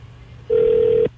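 A single steady telephone tone, loud and close, sounds for about half a second over faint line noise as a bakery phone line is called back, then stops abruptly.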